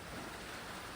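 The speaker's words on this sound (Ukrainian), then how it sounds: "Гараж металевий, а на дворі йде дощ, тому може бути шумно" Rain drums steadily on a metal garage roof during a downpour, a dense, even hiss with no break, loud and close, with no voices.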